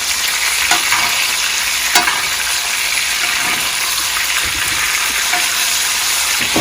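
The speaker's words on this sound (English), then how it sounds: "You're gonna grab a spoon and you want to baste your steak." T-bone steak sizzling loudly in a very hot pan while being basted with butter and garlic, a constant close frying hiss with occasional spoon scrapes and clicks.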